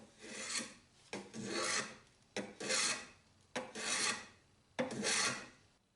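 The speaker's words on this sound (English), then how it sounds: "I'm just gonna chamfer the corners here, call it good" Rasping strokes chamfer the corners of a simple homemade strop, about five separate filing passes, each swelling and then fading, close and clear with no talking.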